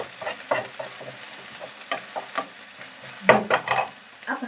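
Steady frying sizzle in a frying pan, broken by scraping stirring strokes and occasional clinks of a utensil against the pan.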